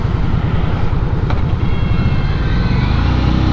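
A 2019 Indian Scout Sixty motorcycle rides along with a loud, steady engine drone and a pulsing rumble under strong wind noise, its pitch shifting slightly as the gear changes.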